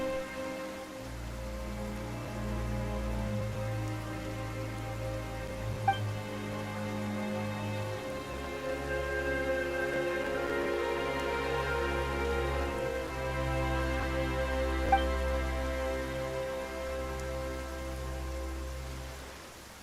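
Steady rain in Genshin Impact patters down over a layered backdrop of low sustained tones, with a couple of faint clicks along the way.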